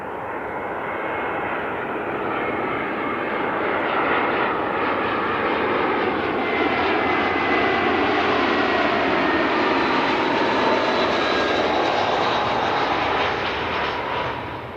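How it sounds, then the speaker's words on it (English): An Emirates jet airliner's engines roar loud and steady for the whole stretch, a dense continuous rumble with a high whine on top and no voices. "Sounds like the noisy engine option, doesn't it?"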